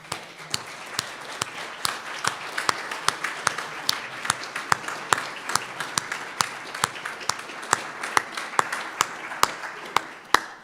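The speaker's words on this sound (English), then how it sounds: "let's have a round of applause for the ATiC team" A symposium audience gives the ATiC team a round of applause, heard as sharp, fairly regular claps that carry on for about ten seconds, with a soft murmur underneath.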